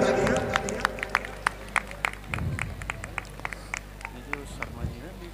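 Crowd clapping at a Ramlila performance in Azadpur, scattered sharp claps spread over several seconds, moderately faint, with some crowd noise and chatter underneath.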